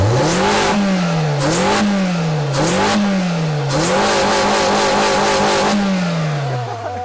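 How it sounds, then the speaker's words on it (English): A Honda CR-V engine with its air intake removed revs repeatedly, a loud, close intake suction rising and falling in four quick blips before a longer pull that fades down, with no talking over it. "Oh, you hear that suck. Honda noise."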